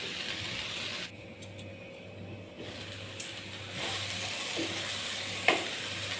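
Onions being stirred while cooking in a pan for a green bean thoran give a soft, steady sizzle with scraping of the spoon and a couple of faint clicks, fairly quiet and without talk.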